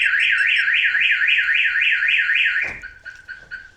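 A Viper aftermarket car alarm fitted to an EK Civic hatchback blares a loud, close warbling siren after being bumped, then switches abruptly to a series of steady repeated tones.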